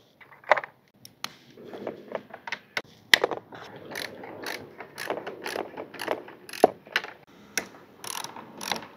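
A 10 mm spanner works a tight battery screw on a SYM VF3i scooter, giving close, irregular ratcheting clicks and metallic taps in short bursts separated by brief pauses.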